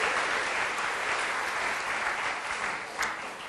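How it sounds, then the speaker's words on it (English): A university lecture class gives a round of applause, dense and steady clapping from many hands filling the whole stretch with no talking over it. "maybe a round of applause for everyone"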